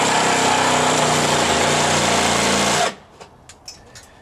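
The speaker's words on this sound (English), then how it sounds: "Sawzall with metal blade." A Sawzall reciprocating saw fitted with a metal blade cuts through bolts on a boat, a loud close buzzing drone for about three seconds before it stops abruptly, followed by a few faint clanks.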